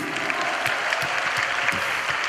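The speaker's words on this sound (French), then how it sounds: "on l'applaudit" Audience applause at a French comedy show: a steady, dense patter of many hands clapping close by, holding at an even loudness for a couple of seconds with no voices over it.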